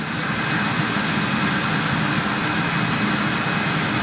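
A British Airways Boeing 747 jumbo jet in retro livery, with Rolls-Royce engines, arrives at London Heathrow; a steady, loud, broadband jet roar fills the whole stretch without a break.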